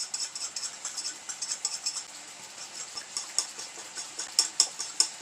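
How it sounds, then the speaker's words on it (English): A metal whisk stirs sauce in a pan, scraping and clinking in quick uneven strokes, light and close, with no talking over it. "break it up on the side with your whisk"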